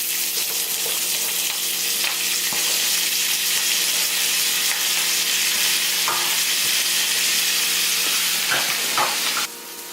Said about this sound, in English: Now first we'll dump in this cabbage and onion.